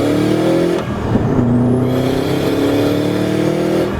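Subaru WRX STi with a built motor, intake, full exhaust and external wastegate, revving loud and close with a rising, steady engine drone and a brief dip near the first second, no voices.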